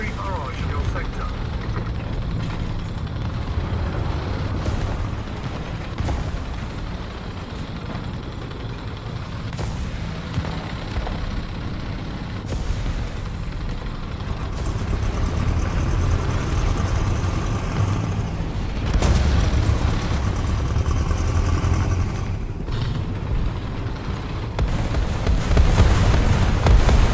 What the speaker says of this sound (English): Artillery barrage in your sector.